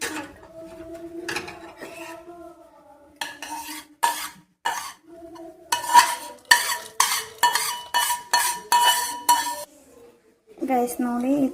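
Cake batter is scraped and spooned from a bowl into a cooking pot, sounding as a run of sharp, rhythmic metal clinks and taps of a spoon against the vessel, close and fairly loud, with a voice speaking at the start and end.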